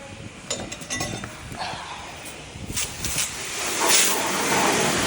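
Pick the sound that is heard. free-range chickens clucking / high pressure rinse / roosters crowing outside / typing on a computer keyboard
high pressure rinse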